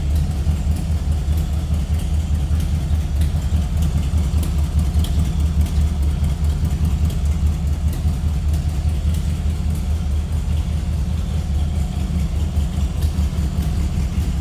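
A 1936 Ford Roadster hot rod engine with Fenton headers idles steadily, a deep, even rumble that holds at a constant level the whole time, close by.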